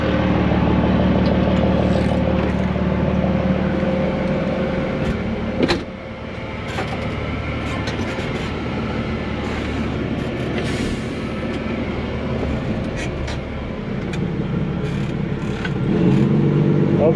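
An old dump truck, Bubba Dump, loaded and grinding slowly over extremely soft, spongy ground at a pool foundation site, its engine a steady loud rumble throughout with a brief dip partway through and clanks from the body.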